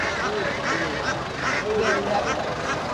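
Ducks quack repeatedly at a rural riverside market, with several short honking calls close by and people talking over them.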